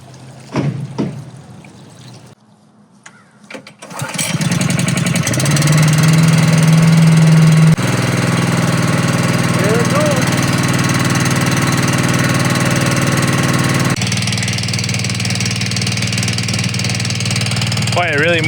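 An engine-driven pump draws water out of a pond during a cleanout with old bulldozers, its steady mid-pitched drone running loud and continuous after a quieter start, with people talking over it.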